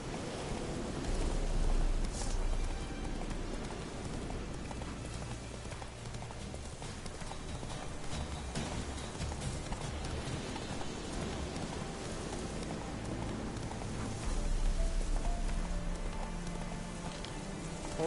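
Roach the horse gallops in The Witcher 3 video game, with steady, continuous hoofbeats over a wind-like outdoor ambience that swells slightly near the start and end.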